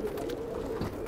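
A pigeon kept by a Brooklyn pigeon fancier coos softly and steadily up close, a low rolling murmur with a slight swell near the end.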